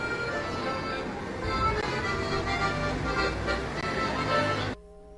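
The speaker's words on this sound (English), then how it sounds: "The next day I'm back on the streets of Paris." A Paris street carries a dense roar of traffic and general city bustle, with a steady wash of noise and a faint murmur of voices before it cuts off abruptly.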